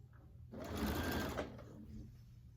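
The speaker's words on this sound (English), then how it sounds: "So now I'll start sewing." A sewing machine stitches quilt fabric in a steady mechanical whir that starts about half a second in, runs loud and close for roughly a second, then eases into a quieter hum to the end.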